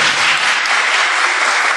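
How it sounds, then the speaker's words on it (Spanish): Steady, dense applause from a concert audience greeting a clarinet player as student musicians are introduced one by one, loud and continuous throughout with no voices over it. "Ahí está el aplauso."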